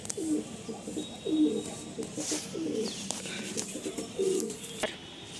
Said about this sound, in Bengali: এটা হচ্ছে একটা কালাঙ্কা আবলুক পায়রা